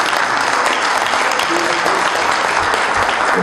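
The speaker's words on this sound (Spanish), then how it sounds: "Vamos a dar un aplauso al doctor." An audience at a legal discussion gathering applauds a doctor, loud, dense clapping that runs steadily from start to finish.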